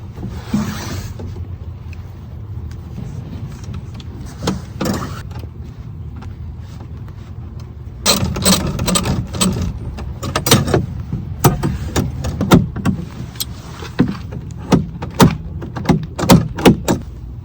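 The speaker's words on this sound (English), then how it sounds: "So now, once that door handle goes in here, it'll just open up like that." Rear door latch mechanism of a Crown Victoria working, with scattered mechanical clicks and clunks that turn into a run of sharp, close latch snaps and metallic knocks in the second half; no talk.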